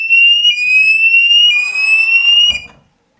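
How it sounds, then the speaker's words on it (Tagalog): A door and window alarm sensor sounds a loud, shrill electronic tone steadily for about two and a half seconds, then cuts off with a brief click. "Dapat meron kayong ganitong door and window alarm."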